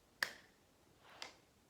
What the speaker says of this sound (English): 6 overhead claps.